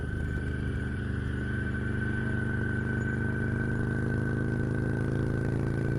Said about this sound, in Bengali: তাড়াতাড়ি বাইক স্টার্ট দিয়ে হাওয়ার গতিতে ছুটতে থাকে